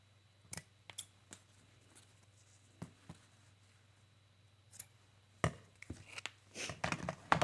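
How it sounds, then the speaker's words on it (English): Ribbon scissors snip trim in a quiet room, giving a few sparse, crisp close-up cuts followed by a busier flurry of snips and handling noises near the end. "Get my ribbon scissors."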